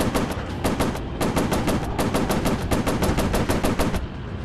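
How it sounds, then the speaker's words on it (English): Rapid machine gun fire from an F7F Tigercat in a WWII warplane game, a fast steady stream of shots broken into a few bursts by brief gaps, loud and continuous. "Overheating machine guns."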